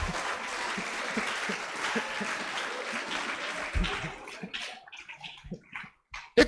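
A church congregation applauds in a steady wash of clapping that thins out toward the end, leaving scattered individual claps.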